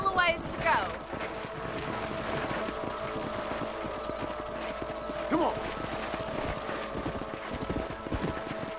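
Horse hooves clip-clop steadily while riding in Red Dead Redemption, a continuous rhythmic patter with a brief whinny near the start, sitting under someone speaking throughout.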